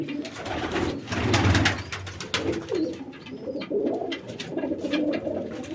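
Pigeons in a loft, including black Cheena flying pigeons, coo in steady overlapping rumbles at close range, with light chirps and some brief rustling and flutter noise mixed in; no one talks.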